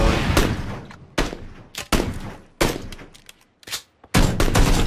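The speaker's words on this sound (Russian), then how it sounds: "Шмаля в дверь, да." Loud, close bursts of rapid gunfire in the video game PlayerUnknown's Battlegrounds, several volleys in quick succession separated by brief gaps, with sharp individual shots in between.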